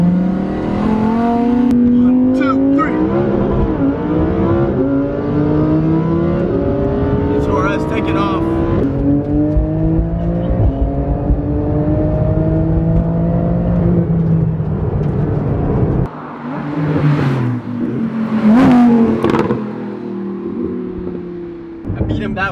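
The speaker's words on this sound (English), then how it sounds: "Power kicks in for the GT2RS." A Porsche 911 GT2 RS and a Lamborghini Huracan Performante racing, engines roaring loud and close with rising revs through gear changes, a brief drop then renewed acceleration, with voices talking over the engine noise.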